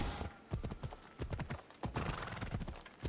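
Horse hooves clip-clop in a quick, steady rhythm while riding in the video game Assassin's Creed Odyssey, close and clear over a soft background hiss.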